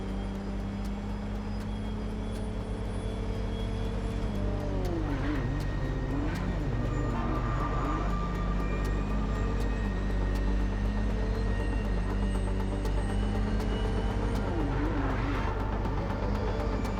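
A car drives in the Mindseye video game, its engine humming steadily with a constant low drone and shifting whine as it moves, with no talk over it.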